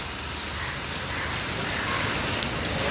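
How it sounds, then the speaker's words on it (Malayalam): Dense, unbroken hiss of heavy rain pouring down in Mumbai, loud and even from start to finish, with no voices. "ഇന്ന് ഭയങ്കര മഴ"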